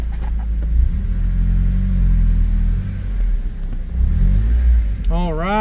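A Mazda Miata engine rumbles loudly in first gear on ice, close up with shifting revs, while people talk over it.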